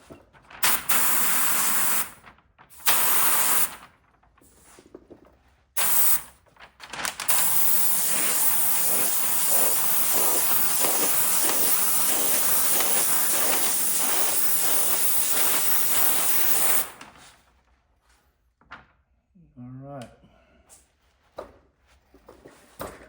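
Spray gun laying Matrix MS52 clear coat on door jambs, a loud steady hiss in several short bursts and then one long pass, followed by quiet with faint movement.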